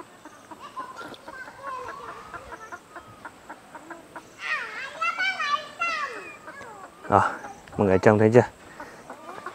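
Backyard chickens belonging to a neighbour cluck and squawk in several bursts, moderately close, with children's voices and playful chatter around them and a speaker talking between the calls.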